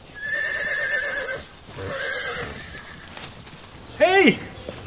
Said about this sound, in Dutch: die paarden hebben het ook makkelijk